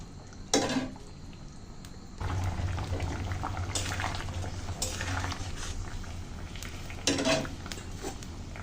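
A spoon works through lentil fritter curry with new potatoes and salt in a pot, giving soft scraping and clinks over a steady bubbling simmer, with a few sharper knocks against the pot.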